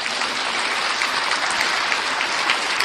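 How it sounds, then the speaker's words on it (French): A studio audience at a French television talk show breaks into loud, sustained applause, a dense, steady wash of clapping that holds evenly for about three seconds without any speech over it. "Je vous demande de l'applaudir bien fort."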